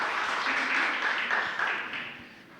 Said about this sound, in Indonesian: Ya, mau tepuk tangan, tepuk tangan.